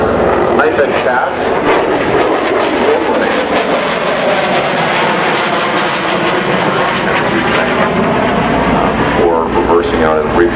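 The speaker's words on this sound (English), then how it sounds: "Knife edge pass." F/A-18 Super Hornet jet flying a knife-edge pass at Farnborough Airshow 2012, a loud continuous roaring jet engine wash sweeping past and filling the whole span, with no talk.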